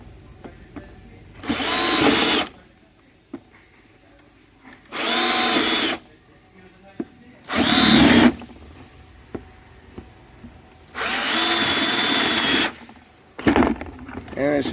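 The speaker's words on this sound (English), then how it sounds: "we're just going to drill it off enough till the door handle actually comes" A power drill whirs in four separate bursts, each a second or so long, drilling out plastic screws on a Chevy Silverado's broken inner door handle, with quiet pauses and small clicks and handling noises between them.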